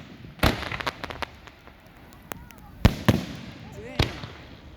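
Fireworks bursting at an evening show at a gaming casino in Black River Falls, several sharp loud bangs scattered among crackling debris and smaller pops, with voices of onlookers talking nearby.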